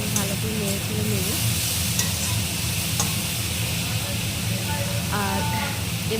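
Shredded cabbage with slit green chillies is stir-fried in a pan, a steady sizzle broken by scraping stirs of a spatula, with faint tonal background sounds running beneath.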